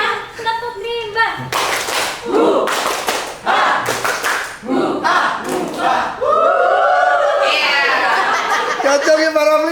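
A group runs through the tepuk rimba clap routine during a teacher workshop, with bursts of rhythmic claps and taps mixed with chanting, chuckles and lively crowd voices.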